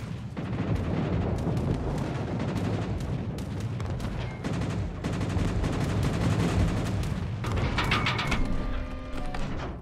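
Artillery barrage called onto a target in a naval combat video game, a dense continuous rumble of overlapping blasts and rapid gunfire bursts with metallic ringing tones toward the end.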